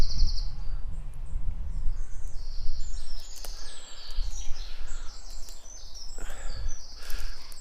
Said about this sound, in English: a place that is rich in the sound of birds